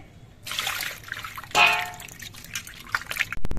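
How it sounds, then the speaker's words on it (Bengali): Water runs and splashes over freshly cut sarputi fish in a bowl, with bursts of pouring and sloshing, a louder gush midway and a clatter at the end. "আমি সবগুলো মাছে কেটে নিয়েছি এবার মাছগুলো ধুয়ে নিতে হবে"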